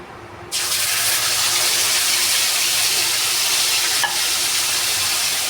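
Ground spice paste drops into hot oil that already holds cinnamon, small cardamom and bay leaf, setting off a sudden loud, steady sizzle that continues evenly, with a faint scrape partway through.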